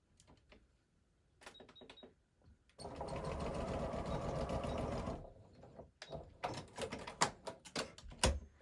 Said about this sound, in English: I'm gonna take this over to the sewing machine and I'm gonna sew this seam